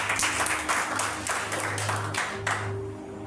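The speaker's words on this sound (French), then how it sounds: "Applaudis pour le Seigneur." A church congregation claps for the Lord during an evangelist's sermon, loud sustained applause mixed with a low sustained tone, thinning out near the end.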